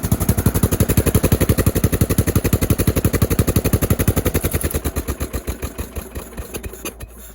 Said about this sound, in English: there's definitely like a lifter tick kind of thing going on, maybe something with the valves